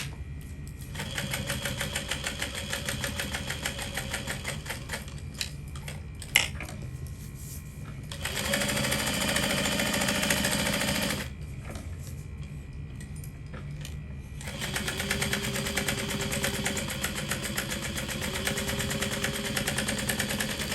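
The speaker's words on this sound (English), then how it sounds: "So then I'll top stitch and then baste all the way around." A sewing machine top-stitches and bastes fabric with a steady mechanical whir in several bursts, pausing briefly between runs, fairly close and moderately loud, with no talking.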